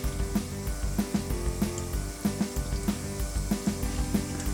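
Mustard seeds and urad dal sizzling and popping in hot oil, with a steady crackle and repeated sharp pops in an uneven rhythm, loud and close.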